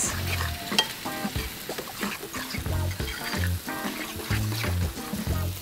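Natural yogurt is stirred into a herb sauce for chicken souvlaki, a close, wet, sloshing mix with soft repeated scrapes and taps against the bowl.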